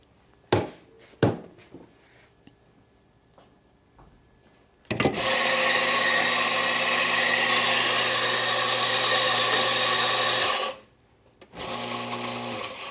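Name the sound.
espresso coffee grinder purging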